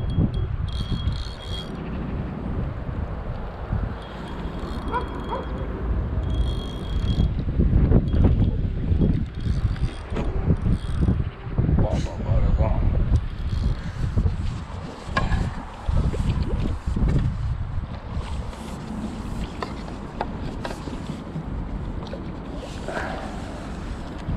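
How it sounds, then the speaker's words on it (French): Strong gusty wind buffets the microphone at a carp fishing spot, roaring loud and uneven throughout with bursts of rustle, no speech. "Il y a un vent de folie en plus."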